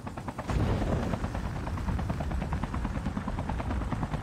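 A helicopter in the Call of Duty Mobile video game thrums with a dense, loud rotor pulse that swells and holds steadily, mixed with rapid gunfire, and no voices are heard.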